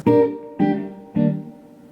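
Three guitar notes are plucked one at a time by a beginner, with slight, uneven pauses between them, each ringing briefly before the next, the last fading out.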